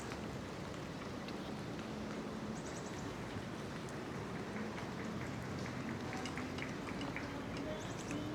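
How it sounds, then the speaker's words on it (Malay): Steady rain falls at the seaside at Tanjung Balau, a constant even hiss with scattered drips, moderately loud and continuous throughout, with faint distant voices beneath. "Hujan ya, sekarang tengah hujan"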